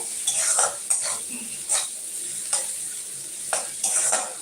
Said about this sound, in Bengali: তো দেখো পেঁয়াজটা ভাজা হয়ে গেছে